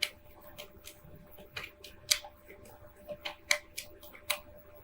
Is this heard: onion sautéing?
no